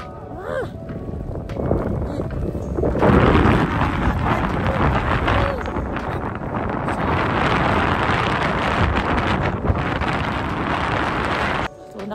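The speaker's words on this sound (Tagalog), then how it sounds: "Grabe ang lakas ng hangin sa taas." Strong wind roars and buffets the microphone at the top of a cable car ride in Armenia during hail and snowfall, a loud continuous rushing that swells and dips for several seconds.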